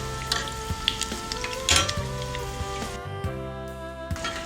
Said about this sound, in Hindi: अब कटोरी के अंदर जो तेल है इससे अंदर का भी अच्छे से फ्राई हो जाएगा।